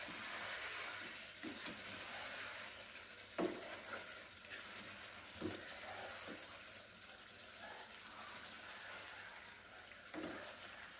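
Spices being stirred into achari chicken in a sizzling pan, a steady frying hiss with a few soft scrapes and knocks of the spoon at irregular intervals, close and moderately quiet, with no voices.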